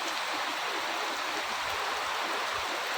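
Steady, dense hiss of heavy rain pouring down on a farm field, continuous and even with no voices.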